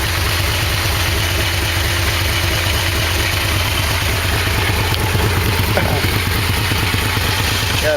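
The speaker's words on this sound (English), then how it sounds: "Got a good idle to it." A Yamaha Vmax motorcycle engine idles steadily after a carburetor sync, a loud, close, even rumble with a regular low pulse and no voices.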